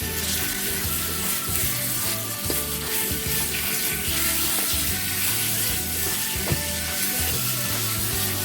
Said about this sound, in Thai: เราก็จะใส่หมูสับลงไปผัดอีกทีนะคะ ทีนี้เราก็ผัดหมูสับจนสุกดีค่ะ